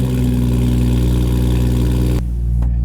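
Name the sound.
BMW M240i car engine revving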